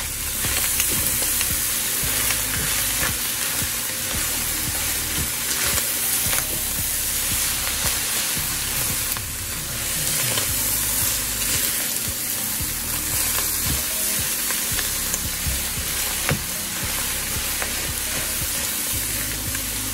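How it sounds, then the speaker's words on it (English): Dirty rice mixture sizzling and frying loudly in a pan while being stirred, a constant dense hiss with scraping movements throughout. "We're gonna mix this all together"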